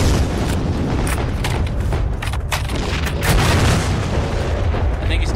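A pipe bomb in the video game Heroes and Generals bursts with a loud, dense roar of booming noise that fills the whole moment, with a voice faintly mixed in.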